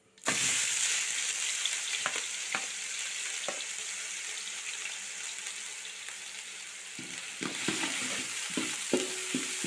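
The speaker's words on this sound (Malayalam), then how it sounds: "ഇനി അതിലേക്ക് നമുക്ക് ഇഞ്ചി വെളുത്തുള്ളി പേസ്റ്റ് ഇട്ട് കൊടുക്കണം" Ginger garlic paste hits hot coconut oil with a sudden loud sizzle that keeps frying steadily, broken by a few scraping stirs and clinks of a spoon in the pan, no voices.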